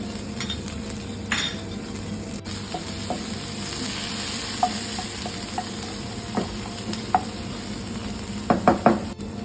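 Ginger and garlic paste sizzles steadily in hot oil in a pan while cooking soya chilli. A constant frying hiss runs throughout, broken by the scrape and clink of a utensil stirring against the pan, with a few sharp knocks near the end.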